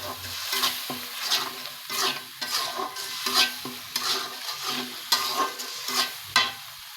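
Spoon stirring turmeric and spices in a hot frying pan for an egg korma, with steady scraping strokes over a soft continuous sizzle, close and alone.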